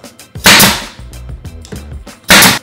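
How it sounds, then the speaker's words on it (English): A pneumatic nail gun fires two sharp, loud, close cracks about two seconds apart, driving nails into beadboard wainscoting, with soft tapping and handling knocks between shots. "If you're using a nail gun, just realize that also you can turn it upside down to get along the bottom edge."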